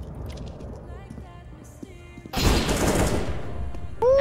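Pistol gunfire in a video game shooter, a dense burst of loud shots from roughly midway on that covers the background, after a stretch of quieter game noise.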